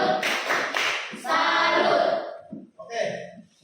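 A class audience at a senior high school claps after a group presentation, a dense burst of hand clapping that fades near the end, mixed with a few voices.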